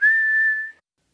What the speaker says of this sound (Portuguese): O senhor está fazendo um som engraçado. Estou assobiando?